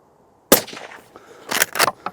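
One sharp, loud shot from a Mauser 25 Max straight-pull hunting rifle cracks out close by, followed by faint clatter and movement.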